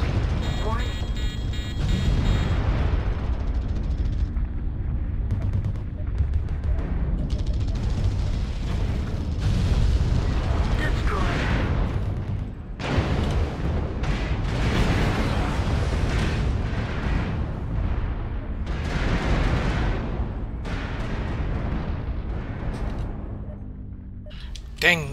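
Missile impacts and explosions in the mech combat video game MechWarrior Online, with rumbling booms and bursts over a continuous battle din, while a person talks intermittently throughout.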